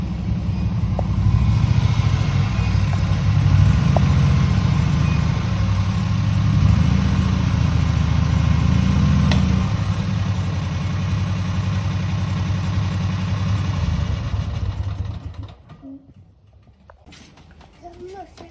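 A John Deere Gator utility vehicle's engine runs at a low, steady idle for about fifteen seconds while it is parked, then cuts off and leaves near silence. A child and an adult talk over it.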